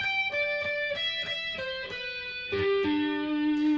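Electric guitar plays a Lion of Judah lick alone, a steady run of clear single notes stepping down the neck, rolling from string to string with a brighter, louder phrase near the end.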